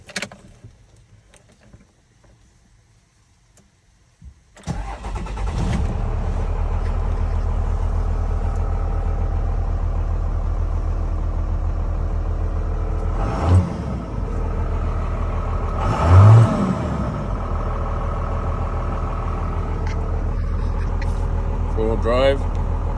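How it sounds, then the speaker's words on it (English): A truck engine cold-starts after a few seconds of near silence, then runs steadily with a loud low rumble, with two brief surges in revving partway through. "Cold start of the truck."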